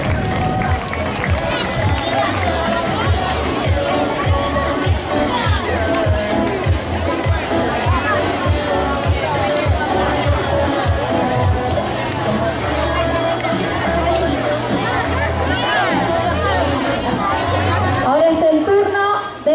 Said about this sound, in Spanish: fuerte el aplauso para Alma Fuerte